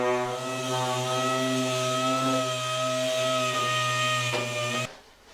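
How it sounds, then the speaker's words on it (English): A power sander with a 400 grit disc on a Daihatsu Charade body panel whirs steadily with a strong, constant tonal hum, running continuously before cutting off near the end. "I'm using a 400 grit sanding disc."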